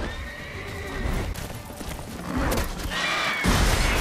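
A horse whinnies loudly and repeatedly in The Witcher 3 over clattering hooves and rumbling game sound effects, with thuds and bursts mixed in.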